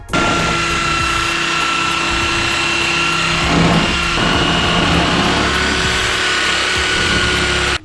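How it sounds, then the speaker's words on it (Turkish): A steady, loud power sander whirs continuously against a snowboard base, with a constant mechanical hum and slight shifts in pressure partway through. "Daha sonrasında zımpara yapıyorum."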